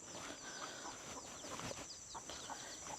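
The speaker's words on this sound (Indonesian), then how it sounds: "Nah, juga banyak pelihara ayam mereka di sini." Chickens cluck faintly in a quiet Dayak village beside a former logging company road, with scattered soft clucks over a steady hiss of outdoor ambience.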